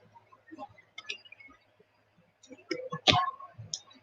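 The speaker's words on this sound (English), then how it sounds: "It's really hard to shuffle the cards" Tarot cards shuffled by hand for a Libra reading, a patter of soft riffling clicks and taps, sparse at first and then a louder cluster of card snaps, with brief speech mixed in.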